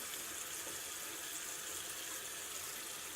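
Tap water runs steadily and loudly into a sink while soap is rinsed from makeup brushes, a continuous broadband splashing rush with no pauses and no voices.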